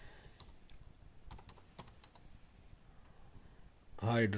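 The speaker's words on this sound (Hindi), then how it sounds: "तो अब यहाँ पे मैं टाइप कर लेता हूँ जी हाइड्रा" Computer keyboard typing into a Chrome browser, with a few clustered key clicks and taps close by, then a brief burst of voice at the end.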